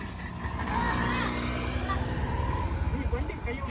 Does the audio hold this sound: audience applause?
no